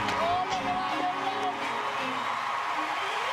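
Talent show audience on its feet, steady wash of crowd applause and cheering throughout, with talk and a tonal voice briefly rising above the noise at the start.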